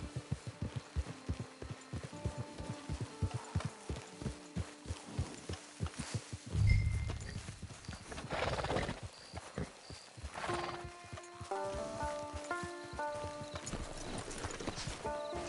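Steady rhythmic clip-clop of horse hooves in a PS5 video game, close and continuous, with a horse neighing midway and in-game music tones layered over the hoofbeats.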